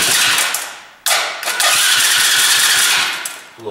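A 100cc quad ATV under carburetor and throttle cable repair is cranked repeatedly, loud close bursts of engine noise that rise and fall in several attempts as it sputters and briefly catches.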